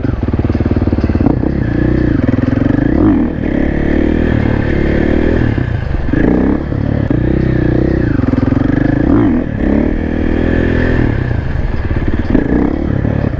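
A supermoto motorcycle engine revs continuously up close, its pitch climbing and dropping in repeated surges over a steady loud drone, with faint clatter mixed in.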